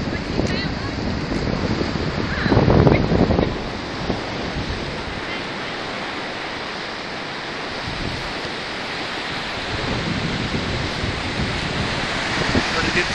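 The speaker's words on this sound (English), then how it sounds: "Pretty good size waves coming in here in Gulf Shores today." Surf rolling in on a Gulf Shores beach with a steady roar, one louder wave crash early on, and wind buffeting the microphone throughout.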